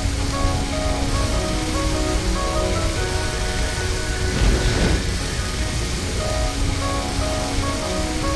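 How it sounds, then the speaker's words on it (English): Water gun spraying onto a fire in a children's video game, a steady broad hiss of water that swells briefly in the middle against a constant background drone. "Slide the water gun to put out this terrible fire."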